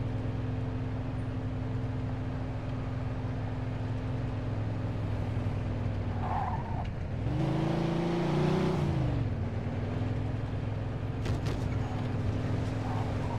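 A car driven in Mafia 2 hums along steadily at close range, then its engine swells into a louder rev and eases back down, with no voices heard.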